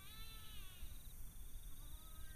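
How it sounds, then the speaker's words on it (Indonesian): A faint cat meows a few times, thin and wavering, over a steady background hiss. "kucing."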